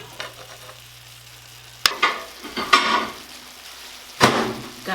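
Shrimp lo mein fries in a hot pan with a steady sizzle, broken by a few sharp clanks and scraping stirs of the utensil against the pan, close and fairly loud.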